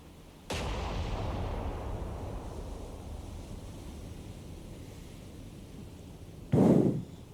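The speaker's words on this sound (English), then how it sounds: "fire, forward battery, engage" An Iowa-class battleship's forward battery guns firing in War on the Sea: one heavy blast with a long rumbling tail over a wind and sea backdrop, then a second loud boom near the end.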